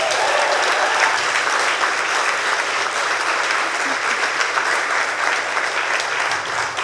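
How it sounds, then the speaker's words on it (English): A crowd at a book publisher's anniversary party gives a sustained round of applause, dense even clapping that stays loud and full for several seconds without a break. "Can I have another round of applause for all of our speakers?"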